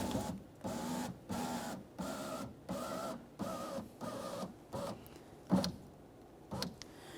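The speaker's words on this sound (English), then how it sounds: "we'll put the vehicle in the on position so we can start powering this window down" A 2012-2018 Nissan rear power window motor lowers the window in a series of short whirring bursts, about eight evenly spaced pulses with brief gaps, ending in a couple of faint clicks.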